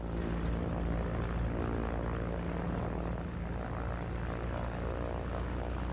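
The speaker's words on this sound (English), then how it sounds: "The pilots gun the engines. The ropes pull tight as the two Cessnas try to take off at the same time" Two Cessna propeller planes rev their engines hard for takeoff while roped to a strongman, a loud, steady droning roar with buzzing propeller tone filling the whole stretch.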